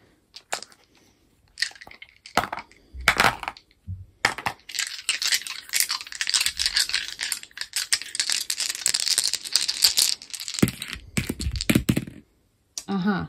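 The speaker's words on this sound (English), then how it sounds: "Okay, we're rolling 5 dice for you," Five dice rolled for a tarot and charms reading, rattling and clattering continuously across a hard surface with sharp clicks and tumbling bursts, loud and close.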